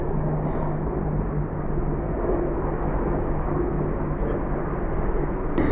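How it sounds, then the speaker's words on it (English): A steady, low, rumbling drone of four large helicopters flying overhead, continuous and fairly loud throughout, with no distinct voices. "4 huge helicopters. 4 black helicopters."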